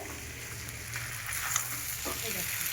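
Spice paste fries in oil during kosha for a shrimp and pointed gourd curry, making a quiet, continuous sizzle with faint stirring at the end of the cooking.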